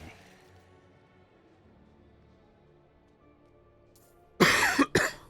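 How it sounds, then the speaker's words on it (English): Near silence, then two loud, close coughs right at the end, harsh and abrupt as if directly into a microphone, during a Diablo 4 gameplay stream. "Sorry for coughing into the microphone there."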